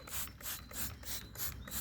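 Degreaser sprayed from a can onto a sport exhaust tip in rhythmic bursts, about five short hissing sprays in quick succession, close and fairly loud with no talk.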